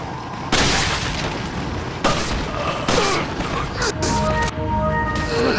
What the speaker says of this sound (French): on va les finir au pistolet, ceux-là